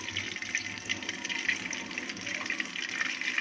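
Used fish-frying oil, about a cup, poured from a pan into a kadhai for making masala, a steady close liquid gush and trickle lasting a few seconds.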